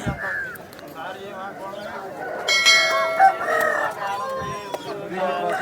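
A rooster crows at a rooster market in Vijayawada, its call rising over a busy background of market noise, other birds and a ringing bell, with voices murmuring nearby.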